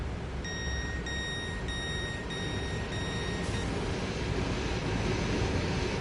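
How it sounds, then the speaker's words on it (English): A TGV high-speed train arrives in the Train Sim World 3 video game, with a series of steady electronic warning tones sounding over a constant rumbling rail noise that stays loud and continuous. "TGV's just appeared."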